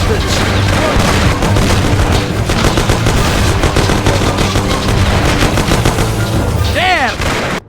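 Sustained loud gunfire from the video game Mafia: The City of Lost Heaven, a dense rattle of rapid shots and booms filling the whole stretch, with shouting voices mixed in and a rising whistle-like tone near the end.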